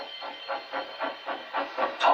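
A steady rhythmic chuffing of a steam train, evenly spaced puffs with hiss, close and moderately loud, no voices.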